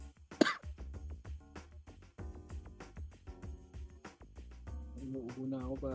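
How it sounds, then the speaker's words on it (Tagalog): A burst of coughing and throat clearing rises near the start over steady background music, followed by more music with a voice near the end. "Inuubo na ako pare ko eh."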